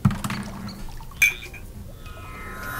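A drink is poured into a glass: a sharp clink comes first, then a brief trickle of liquid and another glassy tap, all close by with no talking.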